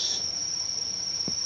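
Crickets on a cricket farm chirp in a continuous, loud high-pitched trill that stays steady and close, with a faint low thump near the end and no talking.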